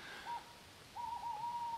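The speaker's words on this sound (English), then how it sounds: "We got Mr. Owl." An owl hoots at night beside a wild camp in Wessex: one short, faint call, then a longer wavering hoot, both fairly distant over a quiet background.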